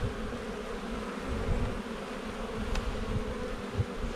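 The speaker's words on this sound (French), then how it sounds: "C'est pas une ruche peuplée, c'est un essaim." Swarm of honeybees newly housed in a hive, a dense continuous buzzing hum, close and steady, with an occasional louder bee passing near.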